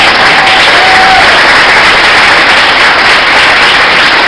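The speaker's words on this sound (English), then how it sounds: "I hope you all give me applause." A large crowd in Philadelphia breaks into loud, dense applause, a continuous wall of clapping that stays strong and even from start to finish.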